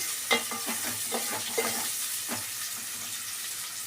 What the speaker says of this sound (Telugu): ఇది నూనెలో బాగా వేగాలి అంటే కొంచెం కలర్ చేంజ్ అయిన వరకు వేగాలి